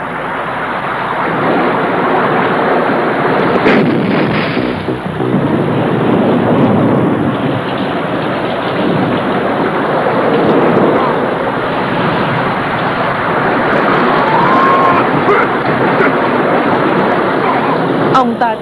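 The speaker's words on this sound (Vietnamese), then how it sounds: "Ông ta tiếp tục luyện thì gió càng lớn, mưa càng to thì ông ta lại càng nổi hứng." A violent storm in a Hong Kong comedy film scene: heavy rain and wind roar as a dense, unbroken wash of noise, loud and steady throughout with only slight swells.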